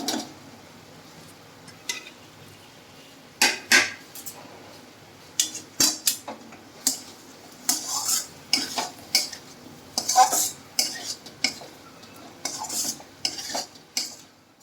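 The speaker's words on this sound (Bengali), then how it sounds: "মশলার মধ্যে ডিমটা দিয়ে একটু কষিয়ে নিচ্ছি" Duck eggs stirred into a spiced masala for a Bengali egg curry, spoon scraping the pan in irregular bursts over a soft sizzle, close and fairly quiet with no talking.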